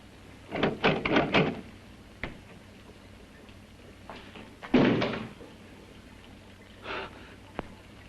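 Heavy door sounds from a 1962 sci-fi horror film: a quick cluster of bangs early on, then one louder slam-like hit midway, with a softer thud and a faint click toward the end, separated by quiet gaps.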